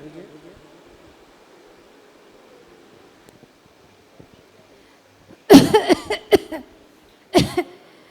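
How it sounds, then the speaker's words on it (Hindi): A man on a morning walk coughs in a harsh burst of several rapid coughs, then one more cough a moment later, loud and close after a quiet stretch. "खांसी मुझे इतनी हो रही है।"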